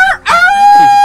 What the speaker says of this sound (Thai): ไก่เนี่ยพอเวลามันขันทีโอ้โหยิ่งเลี้ยงไก่ชนเนี่ยมัน